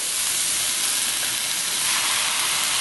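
Diced pork going into a hot pot for Mexican-style pork chili sets off a loud, dense hiss and sizzle that stays steady and close for a few seconds.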